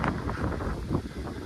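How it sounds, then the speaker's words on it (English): Strong wind blows across a farm and rumbles and buffets against the microphone, making a loud, steady roar throughout a brief moment. "Apologies about the wind, it's blown a hoolie here today."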